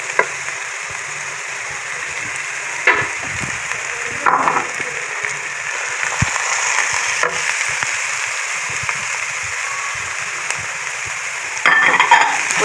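Shredded cabbage lightly frying in a pan over a medium flame for chicken samosa stuffing, giving a steady soft sizzling hiss with a few louder stirring scrapes and clacks.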